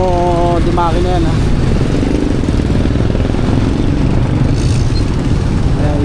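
A motor vehicle engine runs steadily on a road beneath near-constant conversation, a continuous low rumble with no clear breaks.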